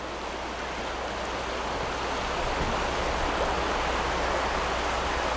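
A steady, broadband rush of a small waterfall nearby on a trail in New River Gorge, continuous and unchanging with no voices.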